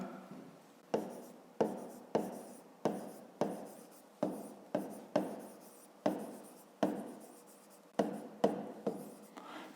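A math formula for a rectangle's perimeter is written by hand, the pen or chalk giving about a dozen quick, distinct scratching strokes in an uneven rhythm, close and fairly quiet, with no talking.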